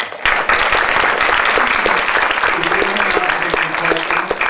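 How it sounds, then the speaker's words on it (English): An audience at a Q&A session at Chapman University claps briefly, loud and close, with a voice speaking over the applause throughout. "I just want to applaud them as well."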